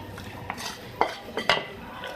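Potato and masala mixture being stirred in a pan, three or four scraping, clinking strokes of a spoon against metal, close and clear with a soft background hiss and no talking.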